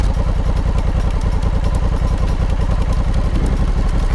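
A Honda Africa Twin motorcycle climbs an offroad slope, its engine thumping in a loud, steady, rapid pulse with clattering mechanical noise, close and continuous throughout.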